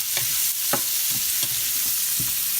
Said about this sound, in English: I'm going to add a secret ingredient. Little nice PBR in there for the flavor. And mix that up.